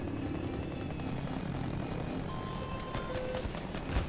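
A helicopter in the video game Battlefield 2042 drones steadily with a loud, continuous rotor and engine roar, with brief electronic game tones near the end and no talk.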